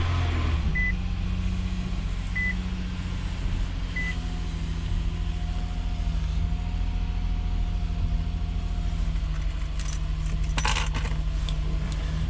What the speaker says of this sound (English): you just want to go ahead and start the car and let it run for a little bit